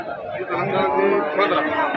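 A buffalo at the Ghodegaon livestock market gives a long, drawn-out low moan, loud and close, over a murmuring crowd.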